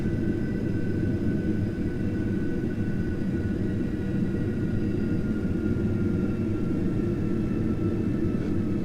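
A Boeing 737 in a flight simulator over Tasmania gives a constant low rumbling cockpit drone with faint steady high tones, unchanging throughout.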